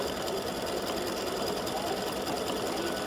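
A free-standing-lace embroidery sewing machine stitches the froth of a beer mug earring design. It gives a steady, continuous mechanical whirr and chatter at moderate volume, with no talk over it.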